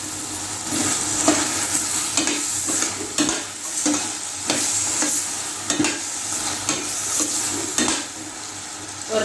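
Vegetables for vegetable biryani sauté in a hot pan, a steady close sizzle broken by repeated scrapes and knocks of a spoon stirring through the pot, with no voices.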